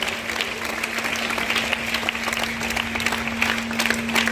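A seated audience claps steadily for a grandfather at a donation ceremony, dense applause lasting a few seconds with a low steady hum underneath.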